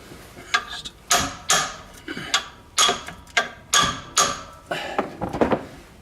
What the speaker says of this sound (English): I've got my hammer now as well